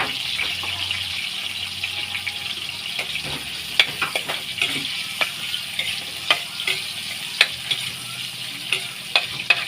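Onion, ginger and garlic sautéing in a pan while cooking palm heart, a low sizzle with a run of clicking, scraping strokes from a utensil stirring, growing sharper and more frequent midway, close and without speech.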